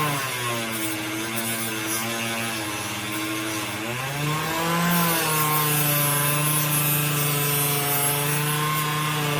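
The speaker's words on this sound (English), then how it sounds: "clean up the inside of these real good before we put it back together over there on the fiber wheel" Schrade knife parts pressed against a spinning fiber wheel, a steady loud whirring hum with a grinding, rubbing texture whose pitch dips and rises briefly midway, continuous with no talk.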